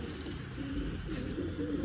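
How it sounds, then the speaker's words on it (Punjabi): Soft, low pigeon cooing murmurs continuously at a moderate distance, a gentle throaty warble with no talking. "ਬਾਕੀ ਮਿੱਤਰੋ ਕਬੂਤਰ ਆਪਣੇ ਇਹ ਆ ਗਏ ਉੜ ਗਏ ਸੀ"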